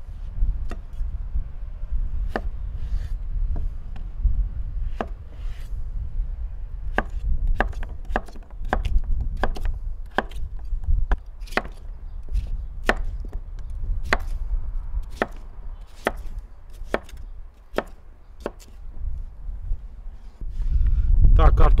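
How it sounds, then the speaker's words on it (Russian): Steady knife chops on a cutting board, sharp regular clicks dicing potatoes at a quick even pace, close up over a low background hum. "Берем наши картофелины и нарезаем их точно так же."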